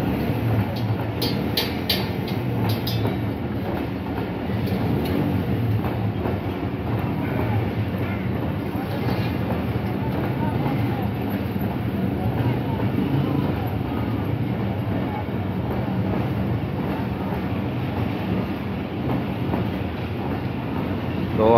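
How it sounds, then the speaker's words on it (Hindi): Passenger train 12 Down pulling out of Sargodha station at night, a loud, continuous rumble of coaches rolling past up close with rail clatter and wind noise throughout. "तो हमारी 12 डाउन की last coach power man coach जो है यहाँ हमारे पास से डिपार्ट हो चुकी है।"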